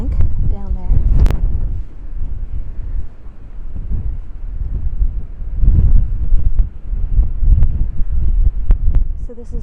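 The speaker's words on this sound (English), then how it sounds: "You can probably hear the wind, my apologies." Outdoor wind buffeting a microphone on Citadel Hill in winter, loud low-frequency rumbling gusts that surge and fade irregularly throughout, with a few faint clicks and handling noises.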